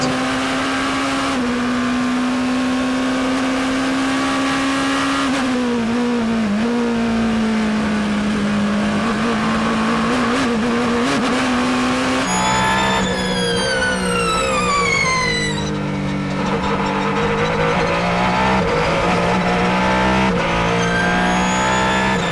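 Ferrari and Porsche race cars roar past at Sebring in 2023, engines loud and sustained with rising and falling pitch as they accelerate, shift and pass close by, one car's note sweeping upward over another.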